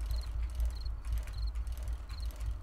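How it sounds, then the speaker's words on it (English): Video-game crickets chirp at nightfall in short, high, evenly spaced trills over a faint low ambient rumble. "Crickets are chirping!"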